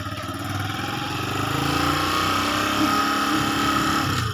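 A motorcycle engine hums steadily while riding, a continuous mid-pitched drone that swells slightly in loudness, with no speech over it.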